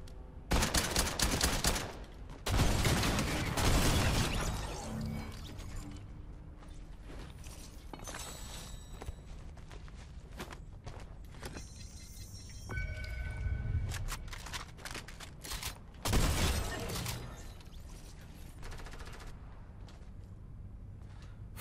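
Gunfire in Fortnite Battle Royale comes in loud, dense bursts near the start and again around the middle, with sharper isolated shots in between over a steady game background.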